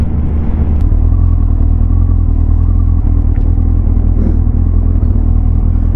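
Motorcycle riding along a suburban road, heard from the rider's position as a loud, constant low engine rumble mixed with heavy wind roar and no talking.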